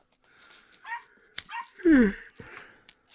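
A dog gives a few sharp barks and high whimpering yips, close and fairly loud, with quiet pauses between them during an indoor live stream.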